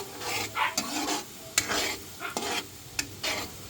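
Garlic and onion sizzle in butter and a little oil while a spoon stirs the pan, with repeated scraping strokes and sharp clinks over a steady frying hiss.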